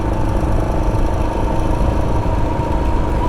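Honda Rebel 1100 motorcycle idling on a warm-up after a dead battery, a steady close low engine thrum with even pulsing and no speech.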